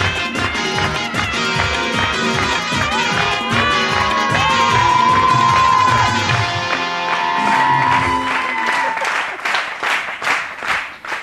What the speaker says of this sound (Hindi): आप लोग खूबसूरत होना चाहते हैं और जोर से होना चाहते हैं? तो फिर तालियां बजाइएगा।